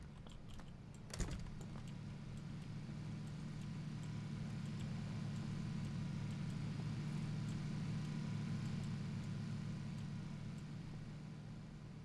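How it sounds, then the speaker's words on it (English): A steady low car engine rumble in the video game PlayerUnknown's Battlegrounds runs throughout, with a brief sharp clatter near the start; the motor drones on evenly without voices. "I hear a car."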